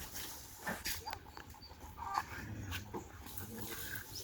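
Several dogs gather around an old house under refurbishment, giving soft whimpers and panting amid scattered light knocks and background noise, fairly close but quiet.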